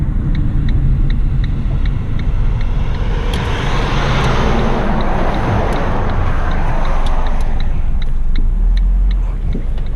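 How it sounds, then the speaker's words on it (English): A 2007 Ford Focus on a test drive produces a continuous low engine and road rumble from inside the car, with a broad swell of tire and wind noise through the middle and faint rhythmic ticking throughout. "I'm gonna go for a long test drive. I'll just make a U-turn here."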